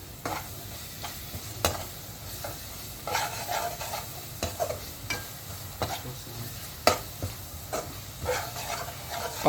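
Turmeric being stirred into a frying paste in a pan, with repeated sharp spoon scrapes and taps over a soft continuous sizzle, close and moderately loud.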